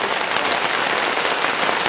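Hail from a short storm falls in a dense, steady patter close by, a continuous rattling hiss with no gaps from start to finish.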